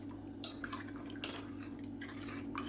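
A spoon stirs curd into ragi kanji in a bowl, giving soft, scattered clinks and scrapes against the bowl over a low steady hum, with no voices.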